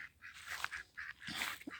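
Ducks on a small hobby farm quack in short, repeated bursts close by, several honking calls overlapping over a couple of seconds.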